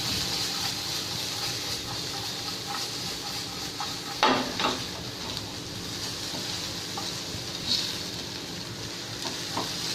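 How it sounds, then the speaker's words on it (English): Chopped garlic and onions sauté over high heat in hot oil for cream of pumpkin soup, a steady close sizzle and hiss with occasional clinks and stirring scrapes. "We allow the oil to heat and we add in the chopped garlic, chopped onions and we'll saute it."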